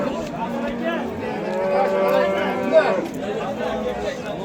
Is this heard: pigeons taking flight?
no